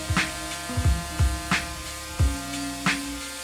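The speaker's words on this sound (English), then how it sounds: "Whatever excess glue I couldn't get with the scraper, I went over with an orbital sander." Orbital sander working over a glued wooden desk, a steady motor buzz broken by short bursts repeating roughly every half to one second as it moves across the surface.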